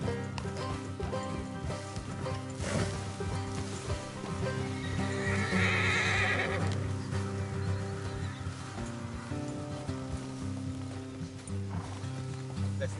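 Horses whinny loudly and their hooves clip-clop along a road in Red Dead Redemption 2, with a sustained music bed and the animals close by throughout.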